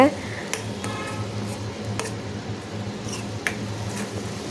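A spoon stirs rasam with ground garlic in a pot on the stove, giving soft scraping and occasional metallic clinks against the pot over a faint background hiss.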